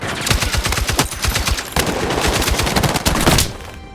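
An M60 machine gun rattles off rapid, sustained automatic bursts in the Call of Duty video game. The fire is loud and close, with dense repeated shots running for several seconds before cutting off.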